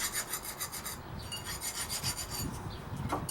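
Rust being scraped and filed off the wheel bearing housing of a 2006 Chevrolet Trailblazer front hub, a close, steady rasping rub in repeated short strokes with no talking.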